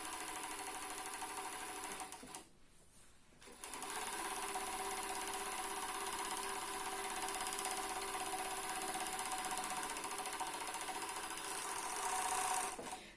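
A sewing machine stitches the leg hem of a pair of fleece sweatpants, running in a steady, continuous whir with a brief pause partway through before resuming and carrying on to the end.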